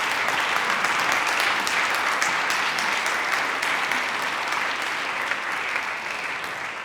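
An audience at a quality-of-life studies awards ceremony claps in steady, loud applause. The dense clatter of many hands goes on for several seconds and fades a little toward the end.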